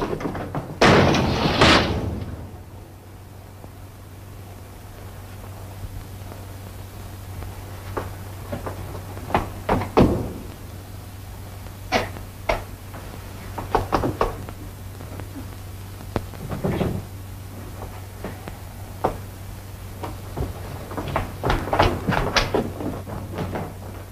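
A door is shut with a firm thud near the start, followed by scattered knocks, clicks and rattles of a latch and lock in a quiet room with a steady low hum.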